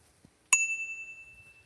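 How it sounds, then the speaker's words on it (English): A single loud, bright ding from the bell on a Himiway D5 2.0 ST 750W electric bike, struck once and left ringing with a long, slowly fading tone. "The bell is loud."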